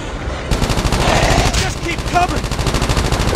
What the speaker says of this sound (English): Just keep shooting the thing.